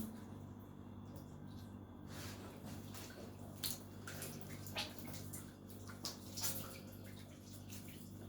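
A shower runs with a steady, fairly faint hiss of water under a low hum, with occasional louder splashes.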